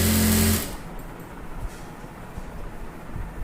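A sewing machine whirs loudly for about half a second while stitching folded piping onto an embroidered blouse, then stops, leaving only quiet room noise.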